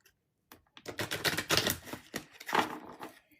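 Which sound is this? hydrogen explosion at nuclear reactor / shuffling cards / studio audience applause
shuffling cards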